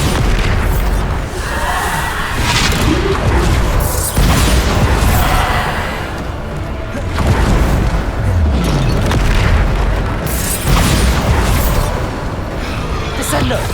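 Bombarda spell blasts in the video game Hogwarts Legacy, loud booming explosions repeating every couple of seconds over dense combat noise, with a voice shouting spell names.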